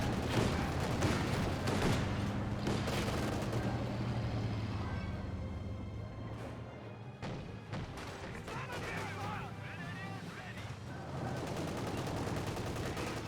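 Rapid bursts of machine-gun fire and heavy booms from a Company of Heroes 2 battle, including a half-track firing on infantry. Dense, overlapping shots play under a commentator's voice.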